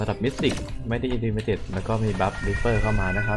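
A house cat meows several times, loud and close, its cries overlapping a man's continuous speech.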